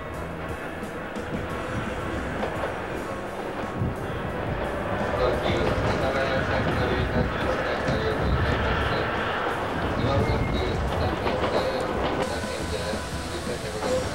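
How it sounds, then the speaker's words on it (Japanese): Setagaya Line tram running through Sangenjaya, Tokyo, a steady rumble of rolling wheels and rail noise that holds for the whole stretch, fairly close and continuous, with a narrator speaking over it. "この電車は今ではもう人々の心と生活にすっかり溶け込んでいます"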